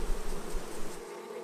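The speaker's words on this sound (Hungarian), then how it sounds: "Óvatosan lerázzák és lesöprik a szorgoskodó méheket a lépről." Honeybees buzz in a dense, steady drone at an opened hive as they are shaken and brushed off the comb, with smoke from a smoker nearby; the swarm sounds close and continuous with no talk.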